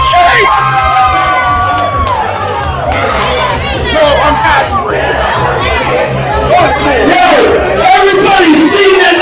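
Loud wrestling event crowd cheering, shouting and chattering continuously, a dense roar of many voices with whoops and yells filling the whole span.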